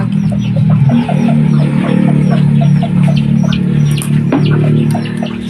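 Chickens cluck constantly and loudly, with scattered chirps from chicks over a steady low hum.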